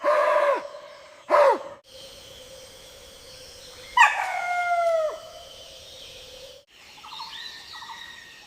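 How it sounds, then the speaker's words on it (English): Sharp barking calls from a macaque sentry in misty forest, a few loud, separate harsh barks with a sustained tonal cry between them, close and clear with no talk. "Above, the macaque sentry barks a warning."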